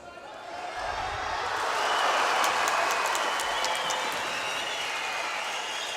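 A large arena crowd at a judo Grand Slam in Baku roars and applauds, a broad sustained wash of clapping and cheering that swells and holds, with a commentator's voice over it.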